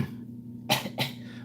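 Two short coughs, one after the other, close and fairly loud over a quiet background.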